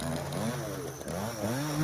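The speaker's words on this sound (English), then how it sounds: "my dad is back there running the chainsaw" A chainsaw runs outdoors in the background, its engine revving and easing in wavering pitch, steady and moderately loud without any speech.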